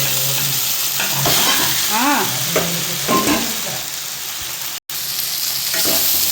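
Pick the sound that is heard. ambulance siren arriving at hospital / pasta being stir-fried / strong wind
pasta being stir-fried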